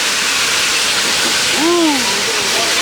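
A steam train rolling through a redwood forest gives off a loud, continuous hiss of escaping steam that fills the whole stretch, with a brief voiced whoop rising over it midway.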